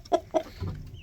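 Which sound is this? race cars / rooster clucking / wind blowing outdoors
rooster clucking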